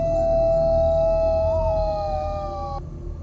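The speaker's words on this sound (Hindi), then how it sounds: "पर ये जो हाउल पिछले कुछ हफ्ते से सुनाई दे रही थी, ये किसी कुत्ते की नहीं थी।" A long, clear wolf-like howl holds a steady pitch with a slight waver midway, loud and sustained for nearly three seconds before stopping, over a low background rumble.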